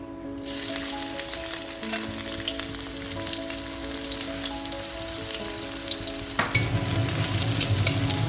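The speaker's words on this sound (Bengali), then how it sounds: "আমি পেঁয়াজগুলো লাল লাল করে ভেজে নেব" Onions frying in hot oil in a wok for a shutki and kochu leaf dish, a steady loud sizzle that flares up sharply near the end as more goes in, with no voices.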